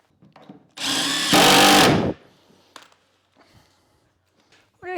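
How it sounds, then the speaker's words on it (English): A power drill drives a screw into a timber and plywood storage rack in one loud burst of about a second and a half, rising in pitch partway through, followed by quieter knocks and handling noises. "we'll pull all this together with screws"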